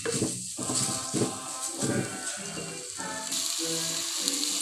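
Chillies sautéing in oil in a pan for a South Indian fenugreek curry (vendhaya kuzhambu), a steady close sizzle and crackle of frying with light clatter of stirring throughout.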